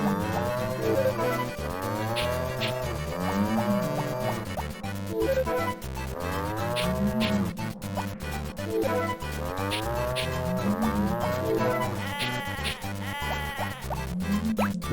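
Cow moos and sheep bleats from the farming video game Harvest Moon: Friends of Mineral Town repeat in a steady looping pattern of drawn-out calls, loud and continuous with no talking.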